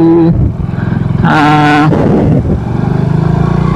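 A Monarch Cub 110 motorcycle is ridden close by, its small single-cylinder engine running loud and steady, shifting pitch as it revs up and settles again, with wind rushing over the mic.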